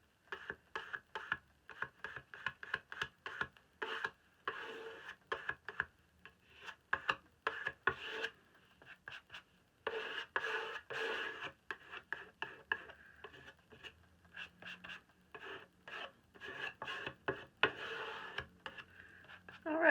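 Scraping and pressing on a wooden painting panel gives dry, close rubbing and tapping strokes in irregular bursts, with quiet pauses between them.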